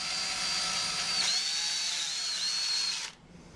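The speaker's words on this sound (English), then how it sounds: "I'm going to drill through this hole" A power drill whirs steadily at high pitch for about three seconds, close up, drilling a pilot hole in wood, dipping briefly under load, then stops abruptly.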